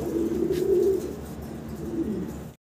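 A pair of fantail pigeons coos close by in a low, rolling, repeated murmur, strongest at the start and fading slightly before an abrupt cut at the end.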